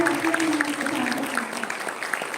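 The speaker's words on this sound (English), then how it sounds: "let's have a huge round of applause for the Oriental University" An audience claps for Oriental University at a live event, a dense, steady patter of applause filling the whole clip while a sustained voice carries on above it.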